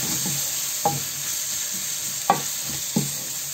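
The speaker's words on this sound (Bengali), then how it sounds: "এবার মশলাটাকে আমি কষিয়ে নেব।" Spice paste of ground coriander, turmeric, cumin, chili and a little ginger paste sizzling steadily in a pan, with a few sharp scraping stirs standing out over the constant frying hiss.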